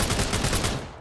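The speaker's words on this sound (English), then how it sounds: "Is that an automatic sniper rifle?" Short bursts of full-auto fire come from an automatic 7.62 sniper rifle in ArmA 3. The shots are loud and rapid, about a second of booming repeats that cut off abruptly.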